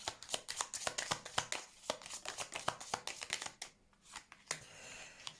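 Tarot cards are shuffled and handled up close, giving rapid, crisp flicks and riffles in irregular bursts with brief pauses, fairly quiet overall.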